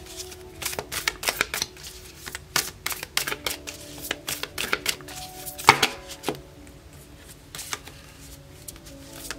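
Tarot deck being shuffled by hand, a busy run of crisp card riffles and flicks in uneven bursts, close and fairly loud, with no talking.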